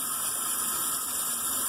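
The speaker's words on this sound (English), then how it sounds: "Turn the hot water back on" A hot water tap runs just after a home plumbing repair that still leaks, producing a steady, close hiss of flowing water with no one speaking.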